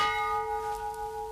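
A palace gate bell hung on a chain of justice keeps ringing as the chain is pulled, a steady metallic tone with lingering overtones and a gentle rhythmic swell.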